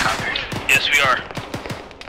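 Rapid gunfire in the video game Operation Lost Coast, a close, loud string of sharp rhythmic shots with a brief bright ricochet-like whine in the middle and a voice speaking over it.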